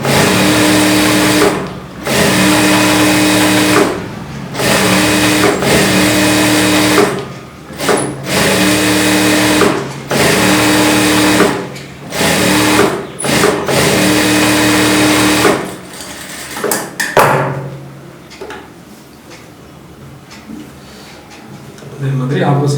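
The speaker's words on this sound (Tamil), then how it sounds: "லைனிங்கில் தையல் போடும்போது ஒரு 1/4 இன்ச்சு கேப் போட்டு தள்ளியே போடுங்க." Sewing machine stitching the lining of a 36-inch blouse, its motor running in steady bursts of several seconds separated by short pauses, then stopping near the end, leaving quieter handling noise.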